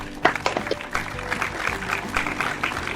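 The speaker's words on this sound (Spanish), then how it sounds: "a quien recibimos con un fuerte aplauso" An audience applauds steadily to welcome a guest psychologist onto a talk program, a dense continuous patter of many hands lasting throughout at moderate loudness.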